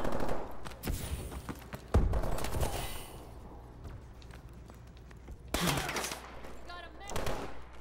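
Video game gunfire crackles in several loud bursts of automatic fire with some single shots, close and dense, while players talk over it.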